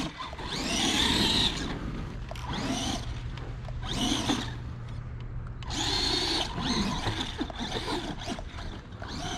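An Arrma Gorgon RC truck drives in repeated bursts, its electric motor whining up and down with tires scrabbling over grippy ground, loud and close.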